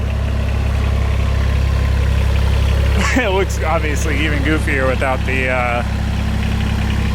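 A small miniature tractor engine runs steadily at idle in sport mode, a constant low droning hum that continues close by beneath a person talking.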